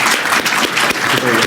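Dense audience applause at a comic convention new-talent panel, filling the whole short stretch at steady loudness, with a faint voice surfacing near the end.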